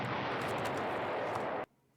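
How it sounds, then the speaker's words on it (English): A loud, dense burst of explosion noise from the video game Nancy Drew: The White Wolf of Icicle Creek, holding a steady roar for about a second and a half before cutting off abruptly into near silence. "That time they animated the explosion"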